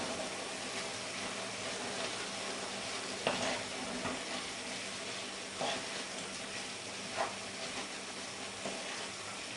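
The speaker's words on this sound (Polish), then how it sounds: "i całość mieszam" A sauce with mustard and tomato paste is stirred in a pan for Greek-style fish, with a steady sizzling hiss and a few soft scrapes of the spoon at irregular intervals, close by.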